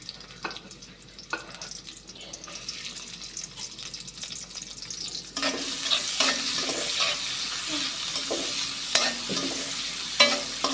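Chopped onion and chili drop into hot oil partway through, and a quiet start gives way to a bright, continuous sizzle with repeated scrapes of a stirring spoon.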